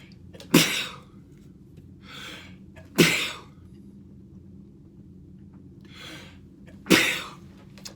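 Three sharp sneezes burst out a few seconds apart, each a sudden loud spike that trails off, with faint breathy sounds between them.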